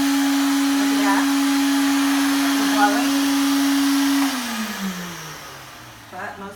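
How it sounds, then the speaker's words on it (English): An Electrolux 1453 canister vacuum cleaner runs in blower mode with a loud, steady motor whine that holds level, then winds down and drops in pitch toward the end. "I'm demonstrating today the Electrolux 1453 canister vac. It's got a blower on it."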